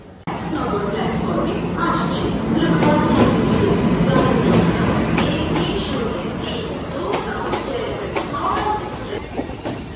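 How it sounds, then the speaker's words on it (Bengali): The Jaynagar Howrah Express leaving Rampurhat station, a loud continuous rumble of rolling carriages with rattling wheels and clatter, passenger voices faintly mixed in throughout. "ফাইনালি উঠে গেলাম জয়নগর হাওড়া এক্সপ্রেসে। এখন রামপুরহাট স্টেশন ছেড়ে বেরিয়ে যাচ্ছি।"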